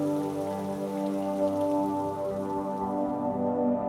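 Steady rain falls during a trek through the Khuj valley, a village valley in India, making a continuous, even patter on surfaces with a low constant hum beneath and no voices.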